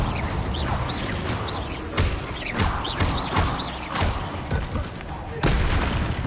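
A Confringo spell blast in Hogwarts Legacy: repeated booming impacts and whooshing bursts over busy game sound, with a voice calling out spell names.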